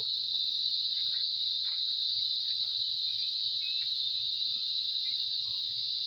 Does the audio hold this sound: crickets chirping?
yes